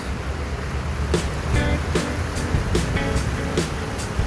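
Strong river current rushing steadily, a loud continuous broadband roar with periodic surges, heard outdoors from close by.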